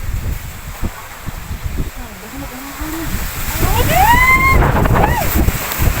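Strong typhoon wind roaring steadily and building louder toward the end, with gusty rumble and flapping, while people talk and exclaim over it.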